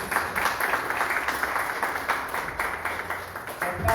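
Worshippers at a church service clap together in praise, with a rapid, somewhat rhythmic patter of hands that stays moderately loud and steady throughout.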